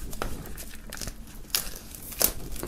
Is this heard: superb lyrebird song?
no